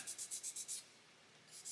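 A sanding stick removes paint from a part of a 1/8-scale Pocher Lamborghini Aventador model: quick back-and-forth scratchy strokes, six in a steady rhythm, a pause, then one more; close and dry.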